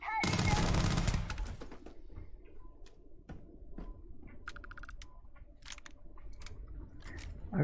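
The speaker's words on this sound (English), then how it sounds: "I probably shouldn't be using up all my shotgun ammo" A shotgun fires in the video game Starfield: one loud, close blast lasting about a second, then quieter scattered clicks, thuds and small metallic ticks.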